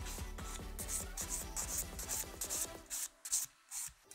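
An acrylic nail being filed and bevelled toward the tip with long strokes, a rapid run of close, rasping rubs that slows into a few separate scrapes, with no talking.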